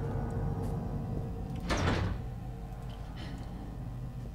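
A door opening in the horror video game Penumbra, a single short scraping slide over a low ambient drone, heard alone without talk.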